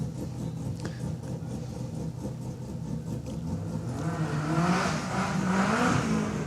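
Mitsubishi Evo rally car at a hillclimb start line, engine idling low then revving up with a rising whine after a few seconds, moderately close with crowd ambience.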